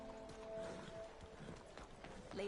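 Horse hooves clip-clopping in the video game Red Dead Redemption 2, a quiet, steady run of hoofbeats under faint background sound.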